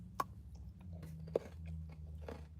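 A Crunch bar is bitten and chewed close to the mic, with two sharp crisp snaps followed by quieter crunching chews over a low background hum, no talking.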